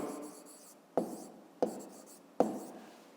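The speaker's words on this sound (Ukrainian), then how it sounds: "Пишемо точки." Pen writing points by hand in a fifth-grade math exercise, three short scratchy strokes spaced about a second apart, each starting with a crisp tap, close and quiet with no talking.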